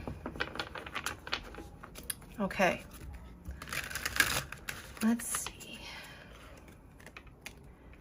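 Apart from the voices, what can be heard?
shuffling a deck of cards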